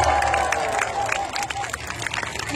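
Outdoor crowd at a castle jousting tournament cheers and claps steadily for a few seconds, broad and fairly close, with an announcer's voice over it.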